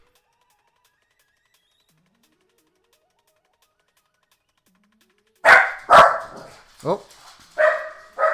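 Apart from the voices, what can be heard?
dogs barking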